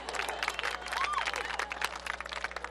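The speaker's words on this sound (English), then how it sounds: "come on, cheer" A high school graduation crowd at a large ceremony cheers and claps in a dense, continuous wash of applause, whoops and scattered shouts, with voices mixed into the noise.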